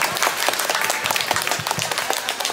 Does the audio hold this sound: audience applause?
yes